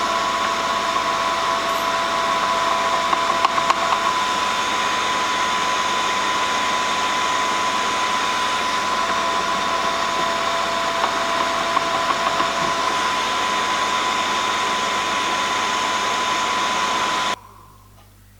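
MR13A drill bit grinder sharpening a 2mm drill, a steady, loud motor whine with a constant hum that runs unbroken for about seventeen seconds before cutting off abruptly.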